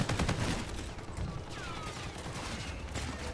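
Unsuppressed NV4 rifle fire in a first-person shooter game, rapid automatic gunfire with dense overlapping shots throughout, moderately loud and sustained.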